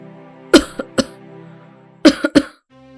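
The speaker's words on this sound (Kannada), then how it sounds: "ಕೆಮ್ಮು ನಿಲ್ತಾನೆ ಇಲ್ಲ" An elderly woman coughs in short, harsh bursts, two close together, then a pause and a tight cluster of three, over a faint low drone.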